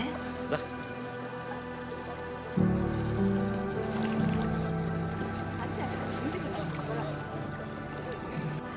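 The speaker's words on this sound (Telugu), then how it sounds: "ఇది బంపర్ రైడ్ అలా తీసుకెళ్ళి ఆ వేవ్స్కి మనకి కింద ప్రెషర్ అనమాట" A bumper boat ride crosses sea waves off Goa, with a steady motor drone and splashing, sloshing water that grows rougher partway through, under faint voices.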